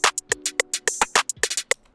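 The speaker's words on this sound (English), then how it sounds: "I put the open hat so it's gonna sound like this." A programmed hip-hop drum pattern with an open hi-hat, short snappy hits alternating with a longer sizzling cymbal wash over a low sustained tone, loud and without talk.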